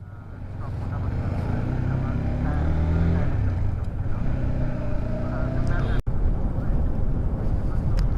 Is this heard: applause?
no